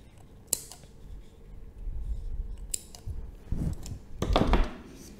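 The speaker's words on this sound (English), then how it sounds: "you can simply just cut the extra piece" Scissors snip off the leftover yarn on a small crochet keychain, a few sharp close clicks and snips with soft handling rustles between them.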